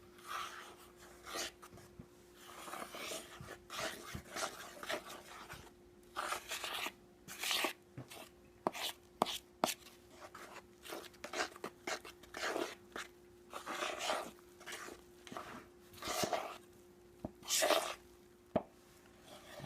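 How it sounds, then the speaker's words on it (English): Bisquick and whole milk being stirred into a batter in a bowl, quiet irregular scraping and soft wet clicks of a utensil against the bowl, faint and intermittent over a low background hum. "I'm going to mix that around and make a batter."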